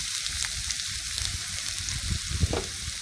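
Half an onion sautéing in hot ghee with garlic and spices for a chicken korma: a dense, close, steady sizzle with small crackles and a stir or two, no talking.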